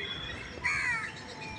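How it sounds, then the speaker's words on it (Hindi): A crow gives a single short, harsh caw at middle distance on a quiet morning walk, standing alone over faint outdoor background noise. "ये देखिए, यहाँ पे कौआ बोल रहा है।"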